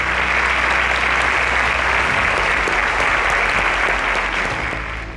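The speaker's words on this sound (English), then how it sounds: "A round of applause for them." Loud, dense applause from a studio audience cheering quiz contestants, a continuous wash of clapping that holds steady and fades slightly at the very end.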